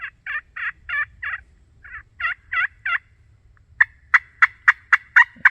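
A Blodgett turkey call from 1997 sounds a steady series of yelps, first a run of evenly spaced notes, then after a pause a sharper, faster sequence of crisp clucks.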